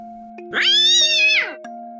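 A cat being grabbed by the neck lets out one drawn-out, strained meow that rises and falls over about a second, loud and close, over a steady low electrical hum.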